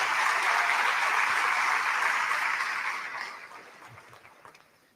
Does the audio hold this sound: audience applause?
yes